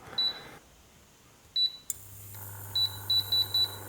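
Short electronic beeps from the control panel of a Biovita Onix 2000W induction hob: a couple of single beeps, then a quick run of four, with a low hum starting partway through.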